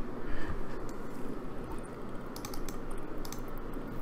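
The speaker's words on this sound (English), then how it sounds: "type your name." A name is typed on a computer keyboard during a BlocklyProp programming lab, with rapid, continuous clattering keystrokes close by and no talk.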